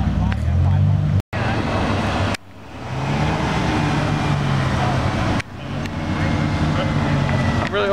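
A Lamborghini Diablo supercar arrives at an exotic car show, its engine a steady low rumble under constant crowd chatter and nearby talk, with brief dips in the noise.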